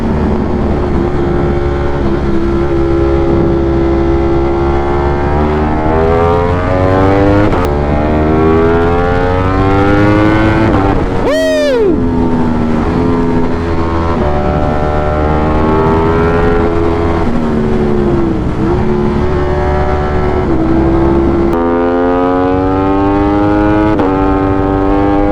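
A motorcycle rides home at speed with loud, sustained engine drone that rises and falls through the gears, and a sharp sweeping whoosh partway through, with no talking.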